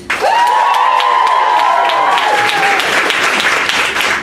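A stand-up comedy audience claps along with cheers and whoops, loud and sustained. A high sustained tone runs over the first part of it, and the noise stays dense throughout.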